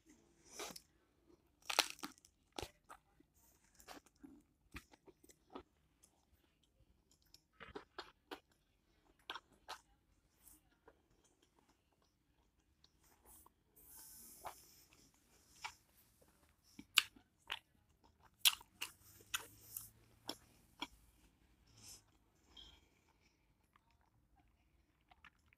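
Hard-shell tacos being chewed close to the mic, sharp irregular crunches and bites scattered across a quiet background, with pauses between mouthfuls.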